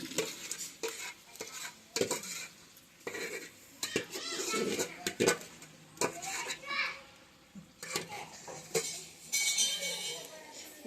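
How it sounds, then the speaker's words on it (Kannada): Metal cooking pots and utensils clank and scrape in irregular bursts as they are scrubbed in a home kitchen, with adults and someone talking over the clatter. "ನಾ ಬಾಂಡೆ ತಿಕ್ತೇನೆ ರೀ ಎಲ್ಲ ಬಾಂಡೆ ನೋಡಿದೆ"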